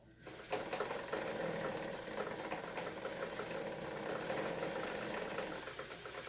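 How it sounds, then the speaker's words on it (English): A sewing machine winds a bobbin with a continuous close motor whir that holds steady with a fine rhythmic buzz for several seconds, without talking. "And my bobbin will continue to wind."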